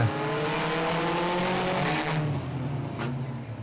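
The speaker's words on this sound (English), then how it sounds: "you hear him revving, and we're going racing" Sprint car engines in the Gladiator division rev loudly and continuously before the race start, with the roar rising and falling as the cars accelerate on the track.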